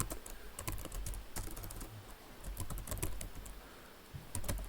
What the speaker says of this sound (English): It wants to know my ID, and so I type that in.